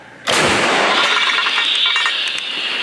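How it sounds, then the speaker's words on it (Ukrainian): A single loud howitzer blast erupts sharply in combat near Lyman, Ukraine, then a long roaring rumble trails off over several seconds. "Гармата постріл!"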